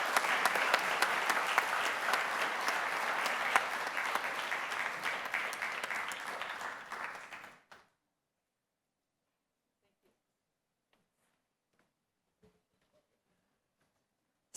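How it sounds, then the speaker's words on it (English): A large audience applauds award recipients at a scientific awards session, a sustained wash of clapping that fades out after about seven seconds, followed by near silence with a few faint thumps. "Let's give them a round of applause"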